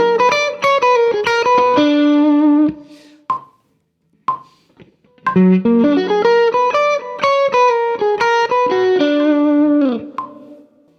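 Electric guitar playing a lick over dominant chords through distortion and effects, bright sustained notes in two phrases separated by a short pause with a couple of soft plucked blips, loud and close with no talk.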